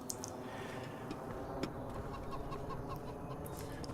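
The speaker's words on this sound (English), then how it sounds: "You have got chickens" Farm chickens in Farming Simulator 25 cluck softly in a few scattered bursts over a steady, low ambient game background.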